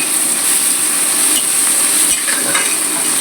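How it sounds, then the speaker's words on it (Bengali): Papaya and shrimp fry in a hot pan with a loud, steady sizzle and hiss that runs unbroken from start to finish, close up, with no voices. "পেঁপে ভাজবো, চিংড়ি মাছ দিয়ে পেঁপে ভাজবো।"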